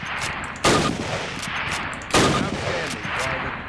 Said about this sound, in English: Fire three more rounds at your target.